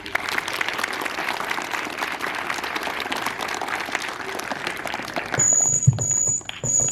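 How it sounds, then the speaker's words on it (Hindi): Audience applause during a children's nutrition talk by a dietitian, a dense steady wash of clapping for about five seconds that thins out, followed by quieter room noise with a brief high tone. "तो एक बार जोरदार तालियां हो जाए"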